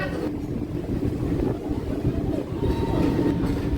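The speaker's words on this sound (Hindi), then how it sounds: "Khordha road junction railway station से डिपार्चर।" A passenger train pulls out of Khurda Road Junction railway station, its steady low rumble and rolling wheel noise continuous and fairly loud throughout, with faint clickety-clack under the drone.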